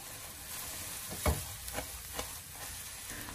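Beaten egg being stirred quickly with a spatula in hot oil in a wok over medium heat for egg fried rice, a steady soft sizzle with a few scraping clicks of the spatula, close and alone.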